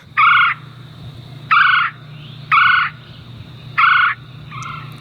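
Four loud, regular frog calls, short buzzy bursts spaced about a second apart, with a fainter fifth at the end over a low steady hum.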